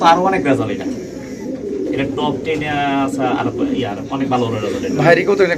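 A racing pigeon coos repeatedly, close and clear, with someone talking over it throughout.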